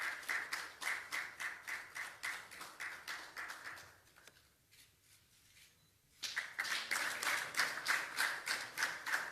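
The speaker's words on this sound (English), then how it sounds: "A round of applause for him" A small group applauds a Ghanaian medal-winning boxer at a presidential honouring ceremony, with close, evenly paced individual claps that pause briefly, then resume louder and faster.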